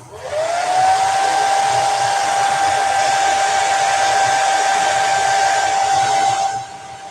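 A hair dryer blows on freshly washed craft items, a loud steady whine that spins up at the start, holds evenly for several seconds and cuts off near the end, with no talking.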